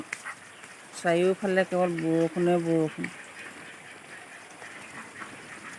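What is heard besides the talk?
domestic ducks quacking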